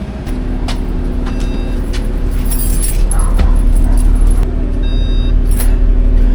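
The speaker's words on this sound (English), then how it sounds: "Here comes the bus now." A Broadbeach South route 700 bus rolls up at a roadside stop, its engine rumbling steadily and fairly loud, with light metallic rattles and brief squeaks on top.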